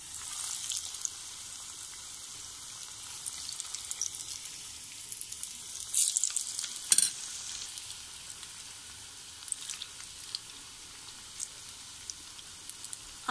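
Moong dal pakoras, a batch of eight to ten, frying in hot oil with a steady soft sizzle and scattered pops, fairly quiet and with no voices.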